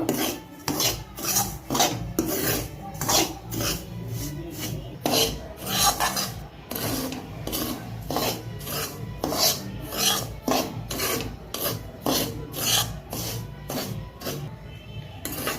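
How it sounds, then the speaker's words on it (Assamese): Semolina is stirred in melted ghee in a pan over low heat, producing rhythmic rasping scrapes, roughly one or two per second, close and steady throughout. "এনেদৰে লৰাই দিব, জ্বলিবলৈ নিদিব আৰু ৰঙা পৰিলে লাৰুটো দেখাত বগা নহ'ব"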